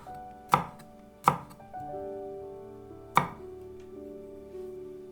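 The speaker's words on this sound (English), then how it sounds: "Cut 1 hot chili." Three sharp knife chops through a hot chili on a cutting board, each a crisp isolated strike with a short ring-out, heard up close with faint background hum and no talking.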